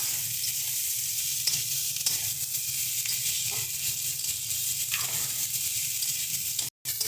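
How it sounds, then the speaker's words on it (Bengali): Eggplant and potato frying together in hot oil in a pan make a loud, dense, continuous sizzle that stays even throughout, with only a momentary cut near the end. "বেগুন আলু দুটোই একসাথে দিয়ে দিয়েছি দিয়ে ভালো মতন করে এটাকে আমরা ভেজে নিচ্ছি"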